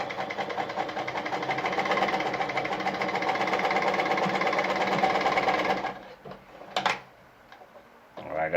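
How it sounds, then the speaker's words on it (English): An Adlerina 240A sewing machine runs a straight stitch in a fast, even mechanical whir for about six seconds, then stops, leaving a few clicks and handling noises. "once this is on 0, you're sewing the regular straight stitch. So when you sew through,"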